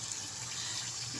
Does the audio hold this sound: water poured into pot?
yes